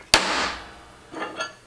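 A hammer strikes a transfer punch to mark steel, giving one sharp, loud metallic hit followed by two fainter taps about a second later.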